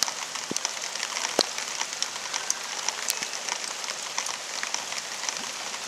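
Steady rain patters and hisses on a surface during flooding, dense and continuous, with occasional sharper drips standing out.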